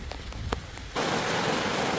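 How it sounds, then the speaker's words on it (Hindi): Heavy rain pours near hillside cafes, a dense steady hiss that bursts in suddenly after a few light drips and holds loud and close. "बहुत तेज बारिश हो रही है"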